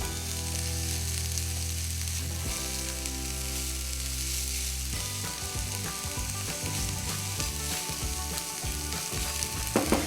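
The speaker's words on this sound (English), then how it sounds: "So you want to keep moving the onions around the pan, don't let them burn." Onions fry and are moved around a pan for butterbean, chorizo and feta soup, making a steady close sizzle with clattering stirring strokes over a low tonal hum.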